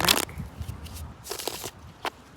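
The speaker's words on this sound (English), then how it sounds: "And 2 more shuffles, please." A deck of tarot cards being shuffled, a loud riffling burst at the start followed by softer papery slides, taps and a couple of brief card flicks in a quiet room.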